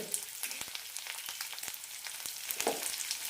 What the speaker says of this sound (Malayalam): ഒരു പച്ചമുളക് നന്നായി വഴറ്റാം